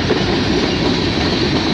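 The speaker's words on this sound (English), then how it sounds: "this is a 422 train we're seeing right now" A Canadian Pacific freight train, number 422, rolls past with chloride cars, giving a loud, steady rumble and roar of wheels on rails close by, continuous throughout with no voices.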